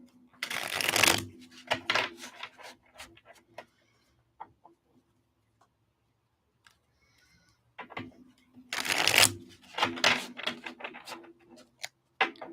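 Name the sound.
shuffling tarot cards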